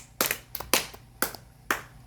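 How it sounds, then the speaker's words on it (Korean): A church congregation applauds during a worship service, but only a handful of sharp, separate hand claps ring out with short gaps between them, close and fairly loud, with no speech. "하나님께 영광의 박수."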